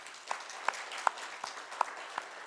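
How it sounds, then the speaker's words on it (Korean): Scattered, fairly faint applause from a church congregation during a Sunday worship service, with a few sharper individual claps standing out over a soft, diffuse patter. "우리 하나님께 영광의 박수 올려드리겠습니다"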